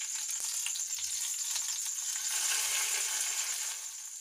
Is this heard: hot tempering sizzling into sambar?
yes